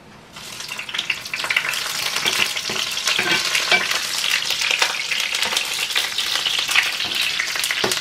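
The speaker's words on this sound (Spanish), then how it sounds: "enseguida vamos a estar poniendo lo que es los chiles de árbol." Dried chiles de árbol fry in a pan for a red salsa, a loud close sizzle that builds after a quiet start, with frequent scraping and stirring clicks over the crackle.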